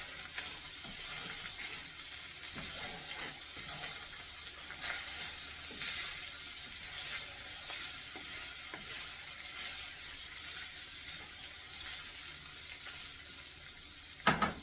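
Potatoes fry in sausage and bacon grease in a pan, a continuous close sizzle and crackle with occasional stirring clatter and no talk.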